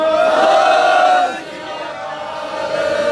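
A gathering of Sikh worshippers raises a loud, sustained jaikara battle cry together, many voices blending into one strong shout that swells and then eases off slightly.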